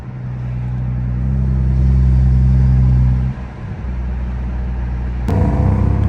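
A modified Mustang 5.0 engine rumbles loud and close, swelling through a rev then dipping briefly near the midpoint before pulling again, with a sharp crack or pop near the end.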